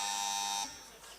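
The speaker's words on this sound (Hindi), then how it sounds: "कच्ची मेमन जमात की जो टीम है उसने बजर पहले दबाई" An electronic quiz buzzer pressed by a team at a school talent hunt quiz in Karachi sounds as a steady, loud buzz for over half a second and then cuts off, leaving faint room noise.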